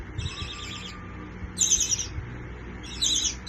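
A pet parakeet chirping during a training session, giving three short bursts of rapid, high twittering calls, close and clear, with no talking.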